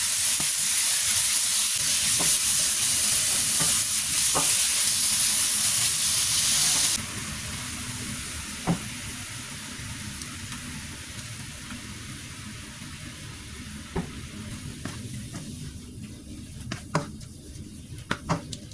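Meat and udon noodles stir-fry in a hot wok with a loud, steady steam hiss that drops to a softer sizzle partway through, with occasional clacks of a utensil against the pan near the end.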